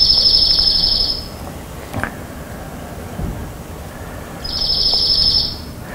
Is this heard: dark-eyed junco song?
yes